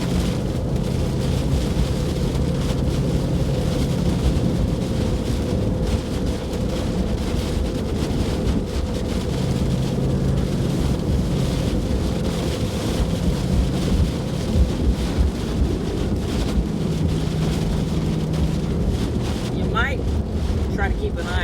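Strong storm wind buffeting a microphone during a storm chase near Weatherford, a steady loud roar with constant low rumble throughout.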